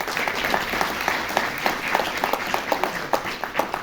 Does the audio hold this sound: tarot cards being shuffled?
no